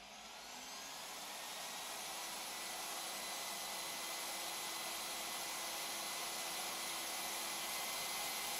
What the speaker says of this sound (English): Pressing the E-drive starts the welding machine.